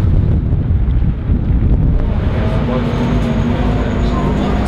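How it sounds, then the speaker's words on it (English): Strong gusty wind buffeting an outdoor microphone near Corfe Castle station, a loud low rumbling roar throughout, with a voice faintly mixed in underneath. "It's quite windy today."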